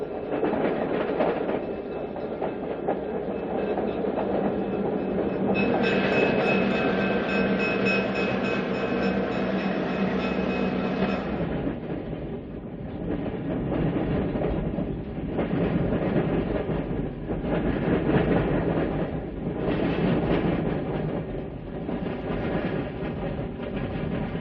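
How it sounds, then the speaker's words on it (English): An Erie-Lackawanna westbound diesel freight train arrives at Marion, Ohio, a loud continuous rumble of engines and rolling cars with rhythmic wheel clatter, a horn-like tone early on, then steady clickety-clack as cars pass close by. "Marion, Ohio also hosted the Erie-Lackawanna Railroad as a westbound freight arrives and is approached by New York Central train number 312"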